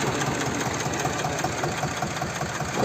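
Tractor engine running while ploughing a field, a close, continuous rumbling drone with a steady throbbing knock and no voices over it.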